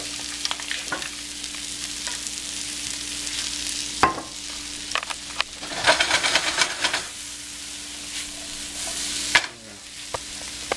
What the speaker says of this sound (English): I'm just going to let it saute a little longer